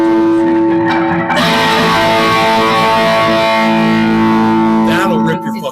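An electric guitar run through a Boss Katana amp set to half a watt rings out with heavily distorted, sustained chords, loud and close, ending with a brief scrape.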